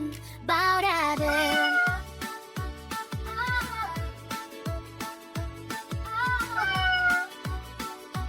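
A cartoon cat meows repeatedly in a sung, melodic way over bouncy music with a strong steady beat, loud and upfront in a Kazakh children's song.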